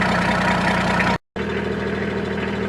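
A diesel Toyota Land Cruiser engine idles with an exhaust leak, a steady close rumble with rapid chuffing pulses that cuts out abruptly for a split second and then resumes.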